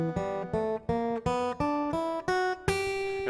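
A blues scale is played note by note on an acoustic guitar, nine plucked notes climbing steadily in pitch at an even pace, each ringing briefly before the next, close and clean with no talking.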